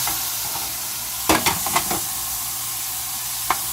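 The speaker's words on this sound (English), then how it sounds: "we're going to start stirring our meat." Ground meat for Puerto Rican picadillo sizzles steadily in a pan, broken by a cluster of sharp scraping knocks as it is stirred, then one more clack near the end.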